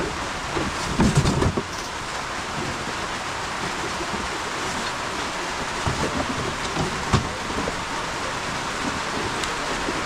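Steady rain pours down outdoors, a dense even hiss lasting throughout, with a few louder bursts and brief knocks near the middle; nobody speaks.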